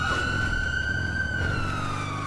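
Police car sirens in a GTA 5 roleplay chase, a loud sustained wailing tone sliding slowly up and down over a low car engine rumble, with no speech.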